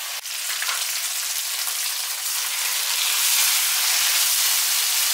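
Rice stirred into a sizzling vegetable sofrito for rice with salt cod, a steady broadband frying hiss that holds level and grows slightly louder, with no voices.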